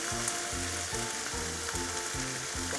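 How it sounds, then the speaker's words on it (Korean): Squid and sauce stir-fried in a hot pan, a loud steady sizzle with rhythmic scraping strokes of a utensil roughly every half second, close and alone with no talk. "이때 오징어를 모두 넣어주세요. 다음으로 양념장 모두 넣어줄게요."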